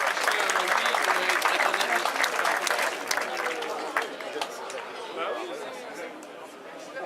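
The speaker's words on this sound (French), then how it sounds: "Merci d'applaudir encore plus fort Damien Touzé" A crowd applauds the winner at the Trophée Centre Morbihan 2014 cycling race in Locminé, with dense, loud clapping and cheering chatter that gradually thins and fades.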